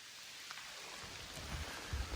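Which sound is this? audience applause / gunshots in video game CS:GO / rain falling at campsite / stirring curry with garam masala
rain falling at campsite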